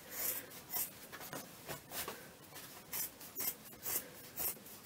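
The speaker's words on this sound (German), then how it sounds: "Und ich schneide mir jetzt da hier die Naht auf" Scissors cut through a seam of a pair of jeans, a close, quiet run of rhythmic snipping and rasping strokes about every half second.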